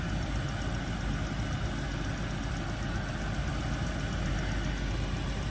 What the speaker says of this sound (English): I hear the AC compressor kicking in now that I'm charging it up